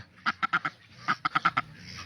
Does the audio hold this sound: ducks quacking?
yes